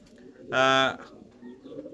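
A pigeon gives one clear, close coo in a short burst, a breeder's stock of fancy pigeons with quiet background noise around it.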